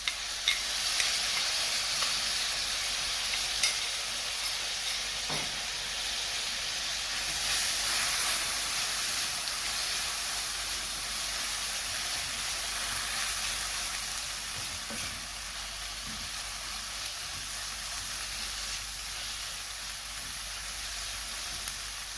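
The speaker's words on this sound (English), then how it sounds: "Now we will add chopped onion." Chopped onion sizzles in a pan for a spicy mixed dal, a steady, even frying hiss that continues unbroken at moderate loudness with no voices.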